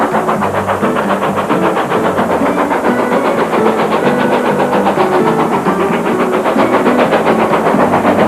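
Steam locomotive climbing a gradient through the roughly one-kilometre Greenway tunnel on the Kingswear line, a steady loud rhythmic chuffing with hissing steam and rolling train noise, enclosed and continuous throughout.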